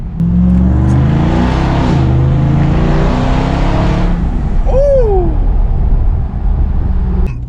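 Ram TRX pickup truck with a cheap exhaust modification revs loudly, deep rising and falling bursts echoing off nearby walls, followed by a quick whistling whine as the engine drops back.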